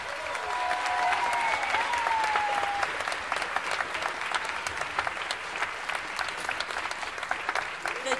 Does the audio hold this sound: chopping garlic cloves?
no